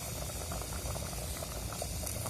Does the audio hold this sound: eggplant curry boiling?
yes